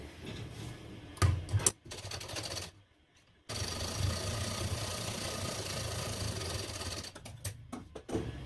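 A sewing machine runs close by in short bursts while stitching a strip onto a Bombay cut blouse, with a whirring needle drive, a brief pause and quick clicking starts and stops at the end.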